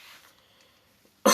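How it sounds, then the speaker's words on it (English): A single sudden, sharp cough bursts out loud and close at the very end, after about a second of near silence. "because I'm now coughing a lot"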